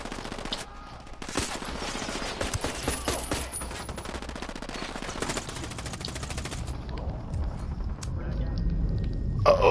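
Rapid automatic gunfire in Ghost Recon Wildlands, loud bursts of machine-gun fire rattling continuously with chaotic shots, while players talk and shout over it.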